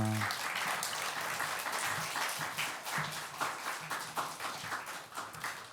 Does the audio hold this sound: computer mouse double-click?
no